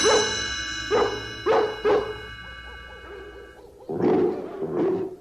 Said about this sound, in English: We'll use the twilight bark to alert all the dogs in London and in the villages nearby.